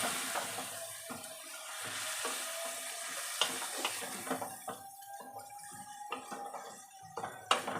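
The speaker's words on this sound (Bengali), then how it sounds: "এবার জল দিয়ে দেবো, হালকা জল দিয়ে একটু নাড়াবো এরকম।" Fish head murighonto stirred in a pan after a splash of water, giving a soft ongoing sizzle with scraping spoon strokes and occasional sharper clinks, fairly close and with no talking.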